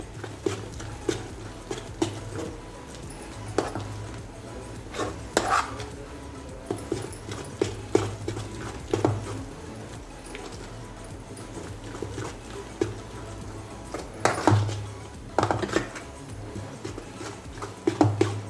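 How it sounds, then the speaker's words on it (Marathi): Cowpea dal batter is beaten by hand in a bowl in a circular motion, producing soft, irregular slapping and tapping strokes that come in uneven bursts over a low steady background hum, with no talking. "आपलं पीठ आपल्याला असं फेटून घ्यायचे आहे"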